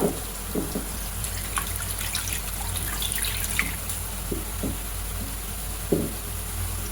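Water runs and trickles steadily into a pan, with a few soft clinks and taps of cookware over the flow.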